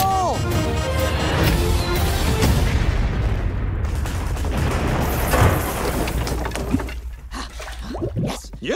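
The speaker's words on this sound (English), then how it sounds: "Pugsley, blow F6! Fire in the hole!" Loud film trailer explosion sinking a battleship, a sustained roaring blast with crashing debris and rumble that fades into quieter splashes and scattered sounds near the end, with a score mixed under it.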